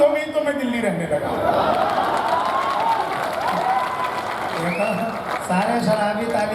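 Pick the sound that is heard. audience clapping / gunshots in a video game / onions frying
audience clapping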